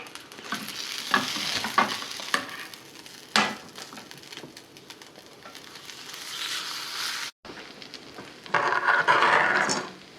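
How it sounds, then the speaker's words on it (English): An omelet sizzles in a frying pan with a steady crackling hiss, broken by scraping stirs and a spatula flip, then a louder burst of frying near the end. "You can hear it sizzling over here."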